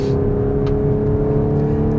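A 2015 Audi S4 (B8) engine revs hard under acceleration, a steady low drone with strong harmonics holding loud for the whole stretch, no voices.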